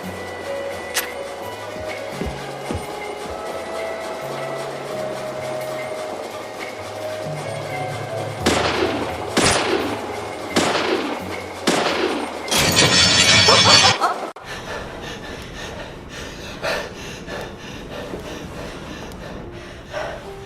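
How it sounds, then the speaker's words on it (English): Gunshots in the video game Deadly Premonition ring out as a handful of sharp, loud bangs in quick succession, ending in a denser burst. A low, stepping game soundtrack plays underneath before and after. "don't make me shoot again"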